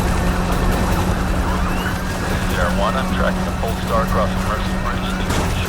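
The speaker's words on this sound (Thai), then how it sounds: "โหรถตำรวจเยอะจังวะ มีฮอด้วย" Police car sirens wail through a Need for Speed Heat chase, sounding continuously over a steady engine drone. A voice talks over the sirens.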